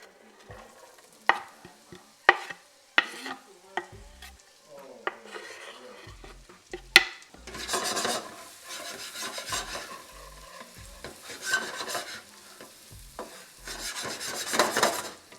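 Shallot and garlic sizzling in butter and olive oil in a pan, with sharp utensil clacks and stirring scrapes at first, then a bright steady frying hiss that swells and fades in bursts.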